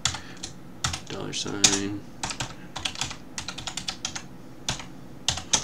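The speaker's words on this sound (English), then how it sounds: "I could type it out every time" Fingers tap out a command on a computer keyboard while editing in a terminal, crisp rapid keystrokes in uneven bursts, close and clear, with someone talking briefly in between.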